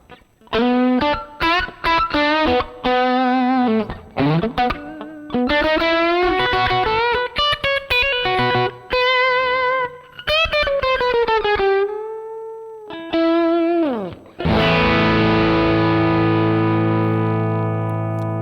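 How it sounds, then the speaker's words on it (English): Overdriven electric guitar through a Mesa Boogie Mini Rectifier amp plays choppy riffs, bends and quick runs, then ends on a big sustained chord ringing out; no one talks over it. "Some windchichi, mellowy overdrive sound."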